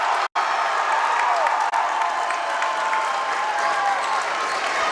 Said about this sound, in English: We have a nice crowd coming into the auditorium now